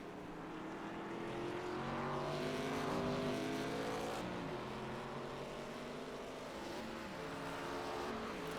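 ARCA stock race cars on a road course climb a hill in a tight pack, their engines droning loudly and steadily with rising and shifting pitch as they accelerate, with no voices over the roar.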